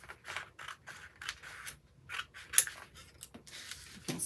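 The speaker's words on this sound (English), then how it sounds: "and then I'm going to cut this away." Paper being cut with scissors while making a craft exploding box, a series of short, crisp snips at close range, some louder than others, with no talk.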